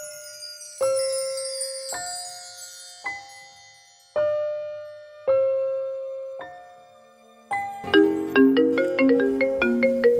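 Phone ringtone playing a repeated two-tone melodic chime, six evenly spaced rings, then a busier tinkling jingle near the end, clear and fairly loud with no talk.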